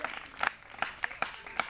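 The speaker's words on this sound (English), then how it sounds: "My friends, let's clap for them." Scattered clapping from a small audience, sharp separate claps spaced irregularly, some sounding close, with a voice speaking faintly underneath.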